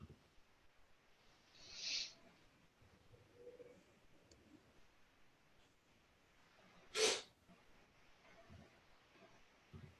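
A single sharp sneeze on an online business mastermind group call, faint and brief, heard over a quiet room background, with a smaller muffled burst a few seconds earlier.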